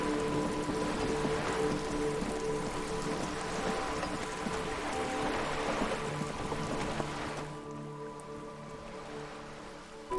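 Steady rain pours down in the game Disco Elysium, pattering on wooden boards and splashing into water all around, a dense continuous hiss with no voices.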